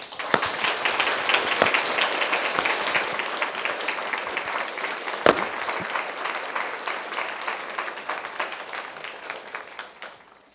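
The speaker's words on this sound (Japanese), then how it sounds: "皆様今一度お二方に盛大な拍手をお送りください" A large audience at a talk event gives a long, sustained round of applause for two guests. The dense, even clapping carries on for about ten seconds before tapering off.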